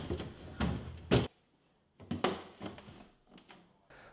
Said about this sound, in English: Now reinstall the vegetable drawers and the door bins.